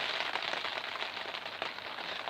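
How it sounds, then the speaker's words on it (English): Steady rain falls on a peach orchard as a soft, even hiss with faint patter, continuous and fairly quiet throughout, with no voices. "So you can hear that rain now."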